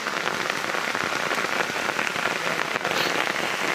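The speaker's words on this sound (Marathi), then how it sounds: "आणि ह्यो जो आता ह्यो पाऊस पडताना" Steady night rain patters densely on a surface, a constant close hiss of drops without pause, with no voices.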